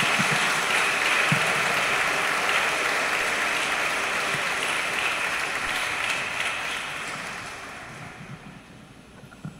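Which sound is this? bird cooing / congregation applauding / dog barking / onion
congregation applauding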